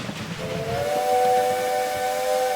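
A train arriving in Railway Empire 2 sounds a steam whistle, a loud sustained multi-tone shriek over hissing steam and rumbling, holding steady to the end with no talk.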